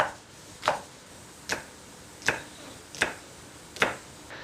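A kitchen knife chops green and red Sichuan chilies on a board in six sharp, evenly spaced strikes, close and clean with no talk.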